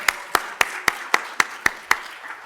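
Eight sharp, evenly spaced claps in a steady rhythm, close by, with no voices.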